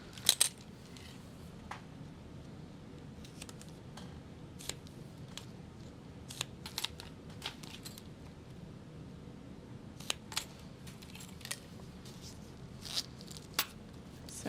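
Scissors snip repeatedly at close range, trimming excess from a sewn zipper tab, quiet sharp clicks scattered irregularly over a faint background hiss.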